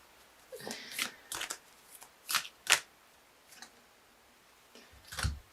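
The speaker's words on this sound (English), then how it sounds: "I'm going to quickly pull a Wild Kuan Yin Oracle card for my dear Libras" Wild Kuan Yin Oracle cards being shuffled by hand in short, irregular bursts of soft riffling and slapping, close and quiet, with brief pauses between the bursts.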